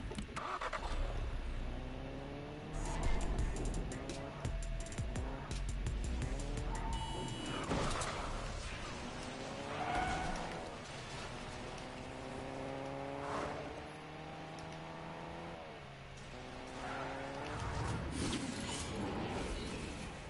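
Video game car driving, with a steady engine drone that rises and falls in pitch through gear shifts as the car speeds up, playing continuously under a faint background of game sounds.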